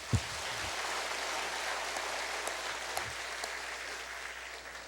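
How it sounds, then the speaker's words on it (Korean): A church congregation gives sustained applause for a choir after a Korean traditional-music hymn: dense, even clapping that fills the room at a moderate level, opening with a couple of brief thumps and holding steady to the end. "우리 박수로 한번 격려 좀 부탁드립니다"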